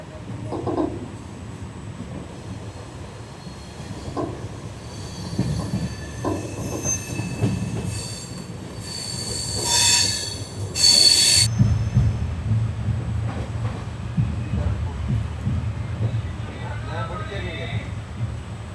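Indian Railways express train from Jhalawar City to Shri Ganganagar rolling on rails, a steady low rumble with occasional wheel squeal and clatter, and bursts of high screech around the middle; a voice talks over it at times.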